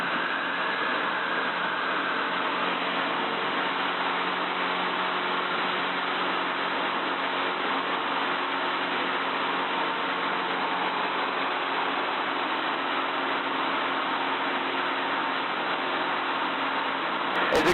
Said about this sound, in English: Take off power set, raise your tail, and get up in the air.